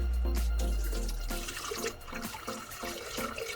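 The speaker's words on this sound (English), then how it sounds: "And you're supposed to put these in the blender with 2 cups of water. So we'll take the lid off. Now pour it in." Water pours into a blender holding cashews, a strong gushing rush at the start that tapers into softer sloshing and gurgling splashes, close by and without talk.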